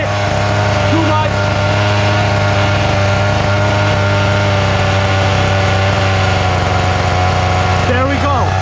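Nitro engine of a vintage HPI RS4 two-speed RC car idling: a loud, steady, buzzing drone with a constant pitch, running without a break from start to finish, close to the listener.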